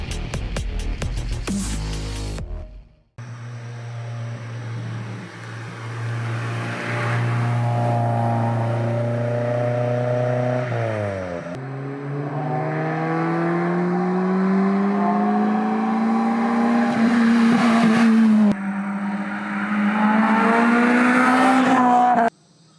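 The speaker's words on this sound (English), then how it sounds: "today we have a very unique Toyota Levin AE111" Toyota Levin AE111 Corolla with its 4A-GE engine, heard up close and loud: a short burst, a brief pause, then long sustained revs that climb and fall through several gear-like steps and stay strong to the end.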